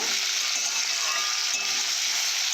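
Bata fish frying with salt in a pan, giving a dense, continuous hiss and sizzle that stays loud and even throughout, with no voices.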